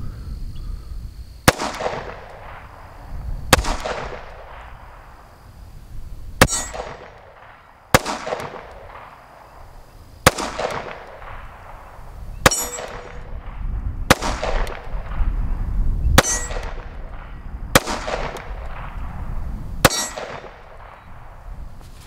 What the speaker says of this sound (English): what we're going to do is simply ring some steel just to see how it's going to function with defensive loads